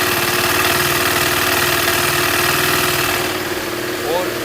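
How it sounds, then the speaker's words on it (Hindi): A KTM RC 390 motorcycle engine idles steadily up close with an even, continuous thrum that holds for a few seconds before easing slightly, with no ticking or knocking standing out. "आपकी बाइक जो है अभी स्टार्ट हो चुकी है"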